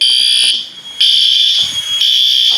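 An L-Series fire alarm under system test sounds in loud, piercing electronic tones that pulse roughly once per second, with brief dips between bursts; no one speaks.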